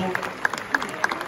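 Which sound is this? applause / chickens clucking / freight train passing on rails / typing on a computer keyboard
applause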